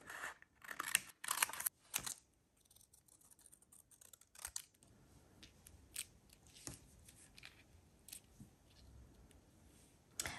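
Scissors snip through a stamped paper image at close range, with a burst of crisp cuts at the start followed by quieter, scattered snips against a soft background hiss.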